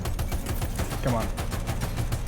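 Rapid, steady automatic gunfire from the game Death Stranding 2, a continuous dense rattle of shots, loud and close, with a brief voice faintly underneath.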